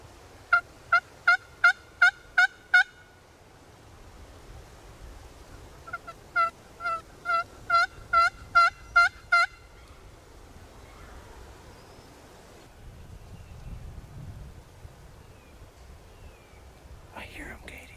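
Wild tom turkeys gobbling during turkey season in Indiana, two bursts of rapid repeated gobbles at moderate distance, separated by a pause, with quiet outdoor background and a brief faint sound near the end.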